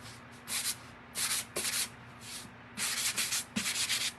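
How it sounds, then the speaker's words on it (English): Sandpaper rubs by hand across a wooden Halloween door round sign in short back-and-forth strokes, close and moderately loud scratchy bursts separated by brief pauses over a faint background hum. "So let's sand it just a little."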